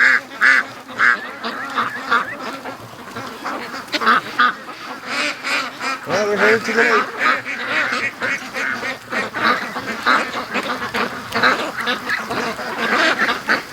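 A flock of free-range ducks quacks continuously and loudly close by in a yard, many overlapping raspy calls in a constant chatter, with someone speaking briefly over them.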